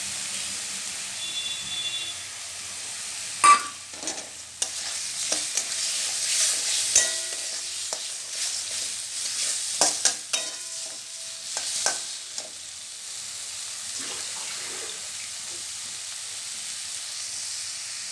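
Spice masala with turmeric and chili powder is stir-fried in a pan for a koi fish curry with cauliflower, giving a steady sizzle broken by repeated scraping and stirring strokes up close.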